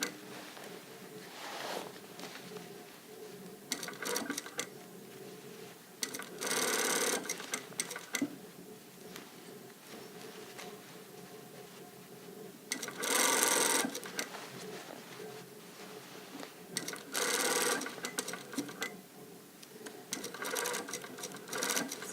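A sewing machine stitches a blazer sleeve into the armhole in short, fairly quiet bursts of rapid whirring, separated by pauses and faint handling sounds.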